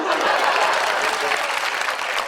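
Steady audience applause fills the space, a dense wash of many hands clapping at once without pause.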